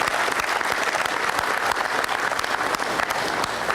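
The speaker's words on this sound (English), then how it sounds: "we've done something, I give them a round of applause." An audience applauding at a ribbon-cutting ceremony for the Moscone Center South, a loud, close, continuous round of clapping from many hands that holds steady throughout with no speech.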